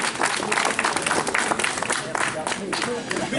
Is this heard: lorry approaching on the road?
no